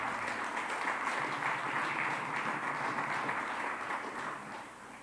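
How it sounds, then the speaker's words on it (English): Sustained applause from the audience at a school board meeting honoring Miami High School, steady moderate clapping that tapers off slightly near the end. "Another round of applause for Miami High School"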